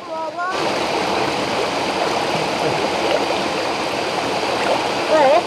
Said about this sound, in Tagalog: Sumasabay sa agos ng tubig.